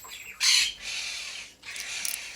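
Caged pet birds squawk loudly in harsh, broadband bursts, one sharp squawk followed by longer sustained calls and a final burst, close to the microphone with no talking.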